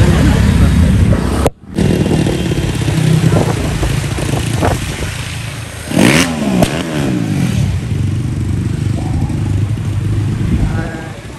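A Crossfire motorcycle with its silencer baffle removed rumbles loudly at close range, cuts out briefly, then gives a sharp, rising rev in the middle before settling back to a rough idle, with voices talking nearby.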